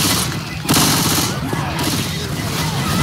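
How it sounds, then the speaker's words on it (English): A pipe bomb is thrown and bursts amid sustained gunfire in Left 4 Dead 2: dense, loud rattling shots, a heavy blast thumping in partway through, and continuous close combat noise with a voice talking underneath. "Throwing a pipe bomb."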